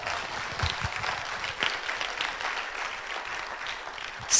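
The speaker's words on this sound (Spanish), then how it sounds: "Denle un aplauso al Señor en esta hora" A church congregation claps together, a dense patter of applause at moderate distance lasting several seconds, with no speech over it.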